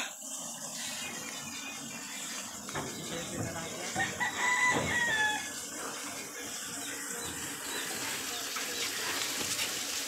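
A rooster crows amid noisy background chatter, its call rising faintly above a busy, indistinct mix of voices and clatter.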